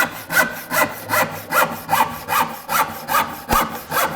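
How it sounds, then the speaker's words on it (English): A hand saw rip-cuts a wooden board with steady rhythmic strokes, about two per second, each a rasping push close up and clear with no talking. "I will lay the saw down into the kerf and nibble away"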